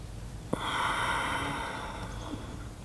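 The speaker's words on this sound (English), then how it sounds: "breathe out" A slow, steady exhale from a person doing a square breathing exercise, a soft close airy breath stretching over about one and a half seconds after a small click, then tapering off.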